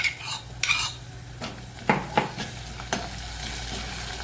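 Onions sautéing in a pan for a Rajasthani dahi papad sabji, with a soft sizzle under sharp scrapes and clinks of a spoon stirring against the pan, the knocks irregular and close.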